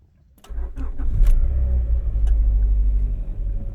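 Replica Honda Integra Type R with a 5-speed manual, engine cranking and catching after a brief silence, then settling into a steady close idle rumble.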